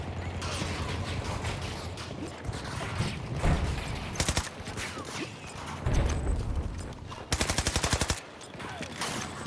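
Rapid bursts of automatic weapon fire in Battlefield 2042, scattered single shots and two sharp sustained volleys mid-way and near the end, loud and close amid faint background clatter.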